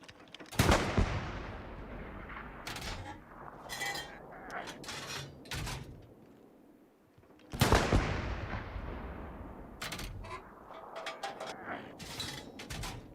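Artillery and gunfire in the WWII shooter Hell Let Loose: two heavy booming blasts several seconds apart, followed by clusters of sharper shots and mechanical clanks in between, moderately loud.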